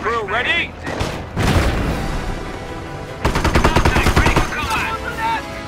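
A British artillery gun crew fires in the strategy game Company of Heroes. Sharp booms and rapid bursts of gunfire punctuate the scene, and in-game voices speak between and over the shots.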